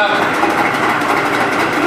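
A 70 HP Evinrude outboard engine idles with its exhaust not fully underwater, giving a loud, steady, close-up drone with a fast, even pulse that holds level throughout.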